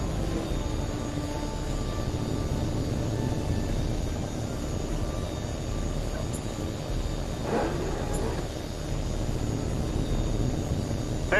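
An aircraft gets clearance and takes off with a constant loud engine roar that holds steady throughout, with no voices over it.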